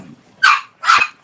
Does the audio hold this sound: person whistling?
no